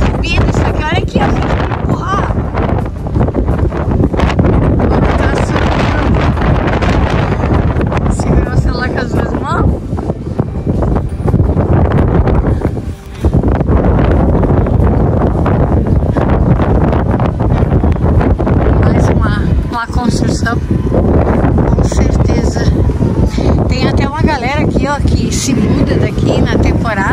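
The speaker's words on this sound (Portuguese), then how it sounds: "Meu Deus, a ventania que tá aqui." Strong, blustery wind at El Chaltén whips around, lifting dust off the ground and roaring across the microphone almost without a break, with one brief lull midway while a person talks.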